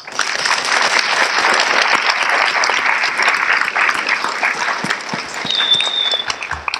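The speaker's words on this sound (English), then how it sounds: "let's take a moment just to give our honorees a round of applause" Audience applause for honorees at a university honors awards night, a broad sustained wash of many hands clapping that swells early, eases slightly, then lifts again with a faint whistle-like tone near the end.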